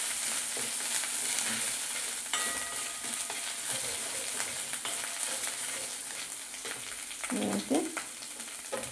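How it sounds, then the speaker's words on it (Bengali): Ginger-garlic paste fries in oil with cumin seeds for a fish kachori, making a dense, loud, continuous sizzle up close, with a scrape or two of stirring near the end and no voices. "আদা রসুনটা একটু ভাজা ভাজা করে নেবো।"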